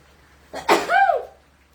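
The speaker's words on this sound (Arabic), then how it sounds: "ثانيه واحده عايزه اعطس." A woman sneezes once, close and loud, with a short breathy intake before the sharp burst, followed by quiet.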